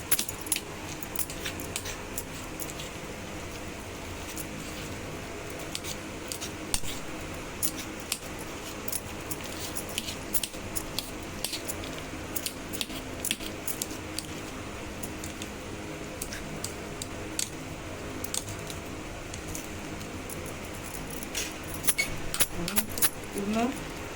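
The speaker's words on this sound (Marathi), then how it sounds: "हाताने काढायच्या ऐवजी काट्याच्या चमचने सगळं असं काढून घ्यायचं." A fork mashes roasted eggplant for bharit, making dense, continuous clicking and scraping against a bowl, close and steady for the whole stretch.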